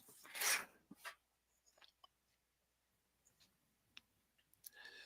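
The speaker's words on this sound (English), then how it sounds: "Got a sneeze on deck." A single sharp human sneeze close to the mic, followed by faint scattered clicks and small handling noises in an otherwise quiet room.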